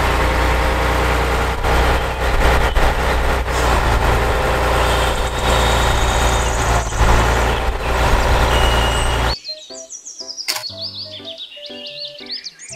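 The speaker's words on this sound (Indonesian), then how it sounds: "Mobil truk derek." Toy tow truck playing a loud, steady recorded engine rumble with truck sounds for several seconds, then cutting to a jumble of electronic beeps and tones, with no voices.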